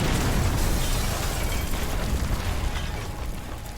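A loud, sustained explosion effect from a Star Wars audiobook: a dense, roaring boom that fills the whole clip and slowly fades over about four seconds, with no voice over it.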